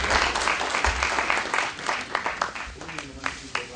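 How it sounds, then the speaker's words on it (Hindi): A hall audience at a poetry evening claps in welcome for Justice Shiv Kumar Sharma, dense applause with distinct individual claps that gradually thins out, while a voice speaks over it. "दोस्तों, तालियों से जस्टिस शिव कुमार शर्मा का भरपूर स्वागत।"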